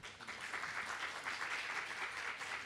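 Audience applause at a book fair talk after a poem reading, a sustained even wash of clapping from a hall crowd, soft and somewhat distant, with no voices.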